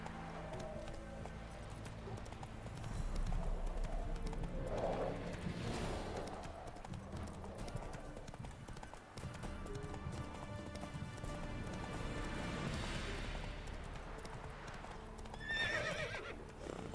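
Roach the horse gallops in The Witcher video game, with steady rhythmic hoof clip-clops throughout and occasional whinnies. A player speaks at times over the hoofbeats.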